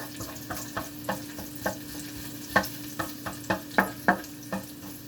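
Onions frying to golden brown in a pan for spicy beef offal adobo: a soft, steady sizzle under regular scraping strokes from a stirring utensil, close and fairly loud.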